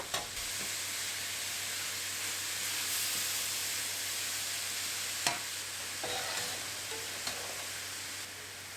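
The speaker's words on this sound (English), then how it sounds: "going to saute my rice in mix of butter and olive oil and the grated carrots only in olive oil and some salt" Rice and grated carrots sauteing in butter and olive oil with salt in a copper pan give a steady, even sizzle and hiss throughout, with a few soft utensil clicks and scrapes breaking through.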